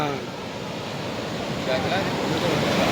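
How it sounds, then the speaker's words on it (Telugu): Early-morning ocean waves wash ashore at Baga beach, a steady broad roar of surf with light wind noise, close and continuous without any clear break. "ఈరోజు బాగా బీచ్కి వచ్చాము ఎర్లీ మార్నింగ్"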